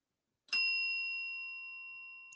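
A single bell is struck once, giving a clear, bright metallic ding that rings out alone and slowly decays over about two seconds in a quiet room.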